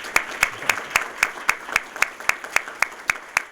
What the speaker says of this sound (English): Let's have a round of applause for her leadership.